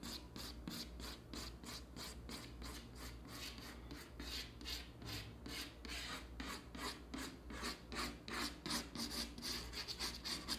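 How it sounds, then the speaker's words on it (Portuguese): Chalk scrapes across a classroom blackboard in quick, regular back-and-forth strokes, a harsh rasping rhythm that speeds up toward the end, with no voices over it. "Estou ficando todo arrepiado com esse barulho que esse giz está fazendo aqui."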